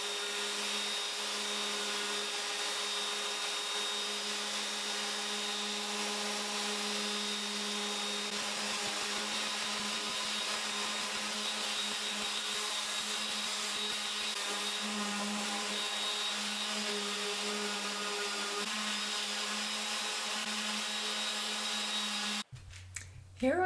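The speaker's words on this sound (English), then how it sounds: "But first, on to a bit of sanding." A power sander stripping paint from a walnut dresser, a steady droning whine held close and loud for the whole stretch, cutting off abruptly near the end.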